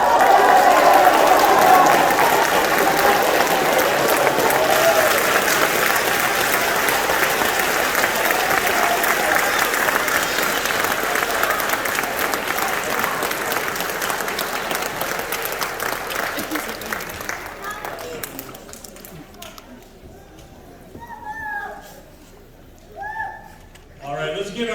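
Sustained, dense applause from a large audience honoring 8th grade students at a recognition ceremony, loud and steady for most of the stretch before thinning out to a few faint claps and murmurs near the end.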